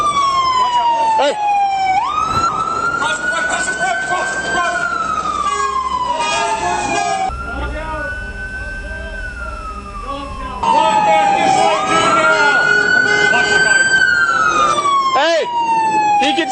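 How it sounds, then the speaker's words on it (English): A police car siren wails loud and close, sweeping up and down in long repeating cycles, with a brief drop partway through and shouting voices around it. "We need that siren off so we can do communication."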